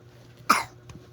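A child's single short cough bursts out close by, followed by a faint softer sound, over a quiet background.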